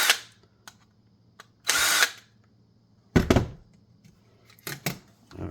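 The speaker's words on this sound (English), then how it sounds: "Okay, we're done with the drill." A power drill whirs in short bursts, lightly deburring a drilled hole, one brief run then another and a few quick stop-start pulses, with small clicks and handling noises between.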